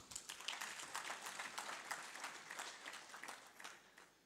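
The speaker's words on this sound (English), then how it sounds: "Samson deserves a very big round of applause." An audience at the 2023 High Level East African Business and Investment Summit gives a round of applause, quiet and distant, with irregular claps rippling through a large hall.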